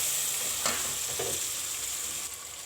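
Boiled meat frying in a pan for iftar, a steady close sizzle throughout with a few soft stirring scrapes, no voices.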